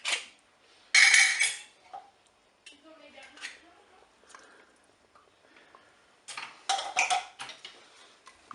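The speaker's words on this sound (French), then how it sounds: "je mélange le tout au fur et à mesure" Tomato paste being stirred into a pork charcutière sauce in a Cookeo multicooker pot: a spoon scrapes and clinks against the pot in two loud bursts, with quieter scraping in between.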